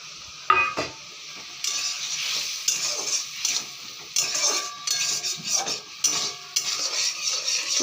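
A spoon stirs ground cumin and coriander in a hot pan, making repeated close scraping strokes over a light sizzle. The strokes come in uneven bursts, with brief pauses between them.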